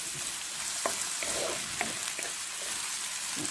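Onion and garlic fry for laham sambosa while a spoon stirs them in the pan, giving a soft continuous sizzle with a few light scraping strokes, close but quiet.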